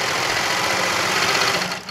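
A sewing machine runs steadily while stitching fabric for a wine gift bag, giving a continuous close mechanical whir that dips slightly at the end, with no talking.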